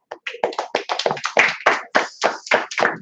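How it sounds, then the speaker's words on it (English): Sharp, close hand claps at a Feast of Tabernacles worship gathering in Minneapolis, a quick irregular series of about fifteen distinct claps with silent gaps between them, loud and dry with no talking. "Clap it up, man."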